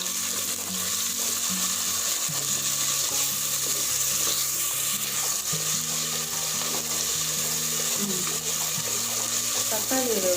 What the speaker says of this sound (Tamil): அடுத்து தக்காளி போட்டுக்கலாம்.